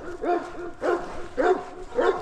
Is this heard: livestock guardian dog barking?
yes